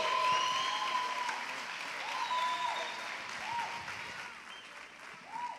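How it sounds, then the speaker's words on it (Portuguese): A church congregation at a youth worship event applauds and cheers in a steady wash of clapping at moderate distance, with whoops and voices rising through it. "aplaudindo ao Senhor, fazendo barulho"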